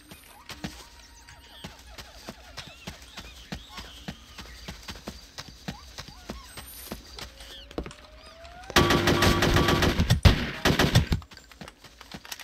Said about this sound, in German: Toll, wenn ich von überall dann angeschossen werde